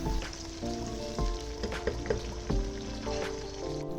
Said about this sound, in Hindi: इसी ऑयल में दूसरा प्याज मैंने एक मीडियम साइज़ का ऐड कर दिया है। उसमें मैंने 4 जवे लहसुन के ऐड कर दिए हैं